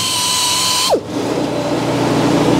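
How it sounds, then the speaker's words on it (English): High-pitched power tool whine holds steady, then drops sharply and gives way to a lower grinding rasp as a saw blade is sharpened tooth by tooth, close and loud with no talking. "we're going to sharpen up the blade here"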